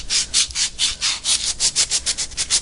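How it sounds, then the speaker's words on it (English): 80-grit sandpaper rubbed back and forth along an aluminum rod, a loud, close, rhythmic rasping with about a dozen even strokes and no talk. "you can take a piece of sandpaper. This is 80 grit, and this is an aluminum rod"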